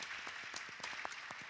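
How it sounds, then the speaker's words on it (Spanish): A conference session audience applauds, a brief, faint, fairly distant patter of clapping with no talk over it. "Vamos a darle un aplauso."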